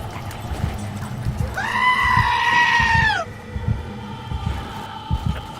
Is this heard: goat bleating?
yes